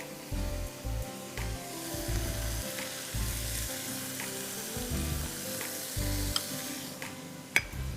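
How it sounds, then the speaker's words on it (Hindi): Cabbage, tofu, broccoli and chili sauté in a pan for soy sauce noodles, a steady close sizzle broken by frequent soft thumps and scrapes of stirring throughout. "Just keep सॉटेइंग everything."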